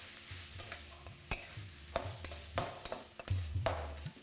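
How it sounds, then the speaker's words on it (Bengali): Chopped onion frying with dried red chillies and cumin for masoor dal, a steady close sizzle broken by repeated scraping stirs of a spatula against the pan. "দিয়ে দিতে হবে এখানে পেঁয়াজ কুচি। তারপর সেটাকে আপনারা ভালো করে ভাজতে থাকুন।"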